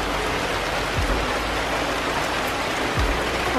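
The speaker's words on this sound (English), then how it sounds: "It's raining." Steady rain falls in the countryside of Hungary, a dense even hiss of drops on surfaces that runs the whole time with no talking.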